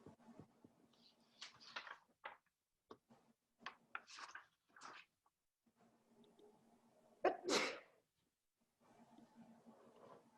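During a Zoom tech talk, someone sneezes once, loud and sharp, amid scattered faint talk and small background noises.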